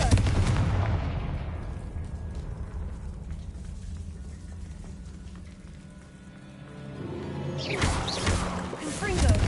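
Repeated Confringo fire-spell blasts in the Hogwarts Legacy video game, loud booming bursts over a rumbling low-end bed, fading in the middle and swelling again near the end; a voice speaks at times.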